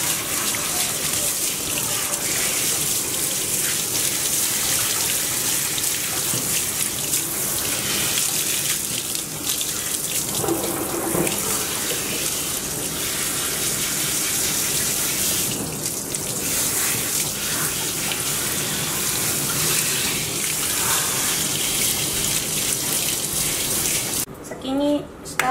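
Water runs steadily from a tap or shower while a Miniature Schnauzer is rinsed of cleansing oil during grooming, a continuous close splashing gush that lasts throughout, with faint voices in the background.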